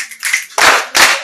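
An audience gives a short burst of clapping at a cake cutting event, a few loud rhythmic bursts of hand claps heard up close with no talking.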